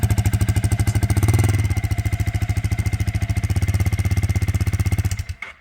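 A motorcycle engine runs loud and close with a steady, rapid thumping pulse during a bike pickup on a bush trip near Mathinna, then cuts out abruptly at the end.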